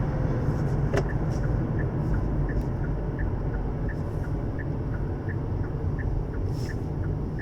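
Kia e-Niro electric car accelerating hard on a slippery road with the wheels spinning, heard from inside as a steady broadband road and drive rumble with a faint repeating high whine or tick throughout.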